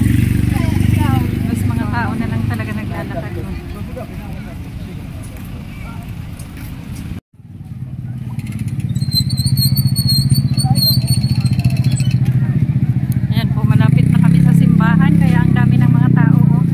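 Motorcycles rumble and pass along a crowded street full of people walking in Naga City, with a steady engine drone throughout, a brief cut midway, and someone talking over the traffic noise.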